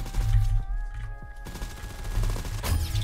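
An AK 103 in the Roblox shooter Aimblox fires in rapid, sharp automatic bursts, close and loud, with short pauses between volleys and no talk.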